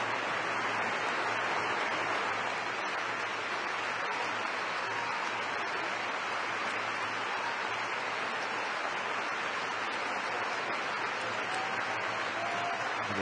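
Sustained stadium applause from the crowd at a women's football match between England and France, a steady dense wash of clapping that holds evenly and fairly distant throughout.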